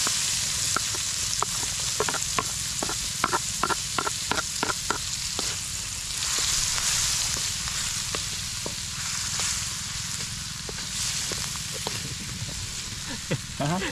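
Onions and garlic sizzle and crackle steadily in a hot pan, a continuous frying hiss with scattered sharp pops and stirring clicks, fairly close, with no talking.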